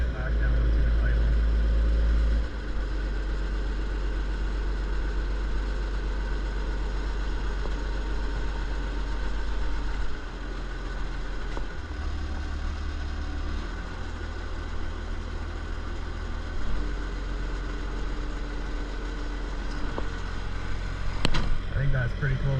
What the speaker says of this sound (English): Let's see if we can bring it back down to the idle.